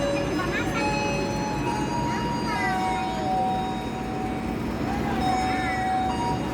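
The Airlangga passenger train runs between Surabaya and Semarang with a continuous heavy rolling rumble, broken by repeated high metallic squeals and ringing tones from the wheels and rails.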